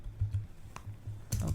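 Light, quick keystrokes tap on a computer keyboard as a command is entered, soft and close over a low steady hum, ending with a slightly louder press.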